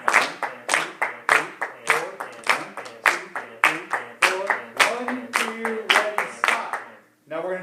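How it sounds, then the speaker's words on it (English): Hands clap a steady rhythm in a general music class, a teacher and children clapping together in regular sharp bursts, close and loud, with a brief pause near the end. "You guys clap with me on the numbers."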